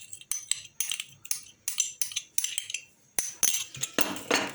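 Repeated clinks of a utensil against a dish while crushed garlic is stirred in for Kayseri çemen, a rapid series of bright close taps with a few heavier scraping knocks near the end.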